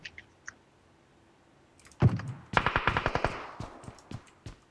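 Gunfire in PUBG Mobile: a few isolated pops, then a rapid automatic burst of about a dozen sharp, loud shots in quick succession, with scattered clicks between.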